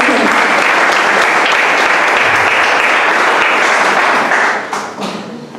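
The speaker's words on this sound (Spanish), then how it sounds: "Denle un fuerte aplauso." A church congregation breaks into strong, dense applause during a service, sustained and loud before tapering off in the final second as a few scattered claps trail away.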